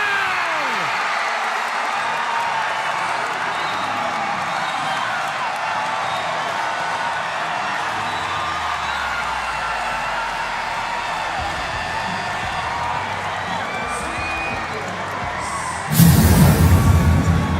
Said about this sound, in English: And the crowd goes wild here.